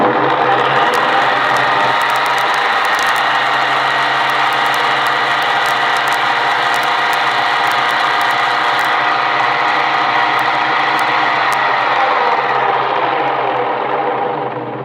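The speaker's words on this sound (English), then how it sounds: "I'm going to install it in one of these holes, turn it on, and you'll see how fast it cleans" A homemade billiard ball cleaner runs continuously with a motor drone and rattling mechanical buzz while cleaning a ball set in one of its holes. The sound stays loud and close, with faint clicks near the start, and nobody speaks.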